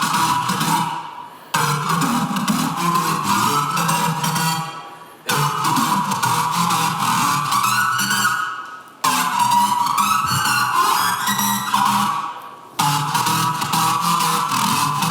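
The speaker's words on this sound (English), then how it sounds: "a very cool function in Serum that I use is the sync function on synths" A Serum synth lead using the sync function for an electronic dance drop B-part plays loud, buzzy, sweeping notes in four repeating phrases over a pulsing beat, each phrase ending in a brief drop-out.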